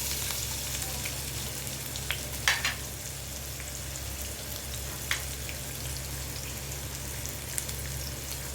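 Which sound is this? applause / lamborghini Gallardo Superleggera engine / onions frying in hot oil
onions frying in hot oil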